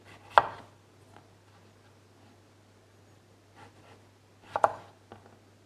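Knife cutting potatoes into fries on a board, two sharp chops spaced several seconds apart with faint scraping between, close and quiet over a low hum.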